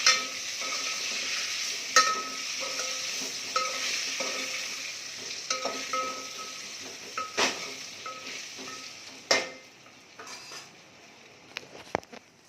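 Spices for a spiny gourd and cowpea curry temper in hot oil in a pan, a steady close sizzle punctuated by sharp clinks and taps of a utensil against metal, with no talking.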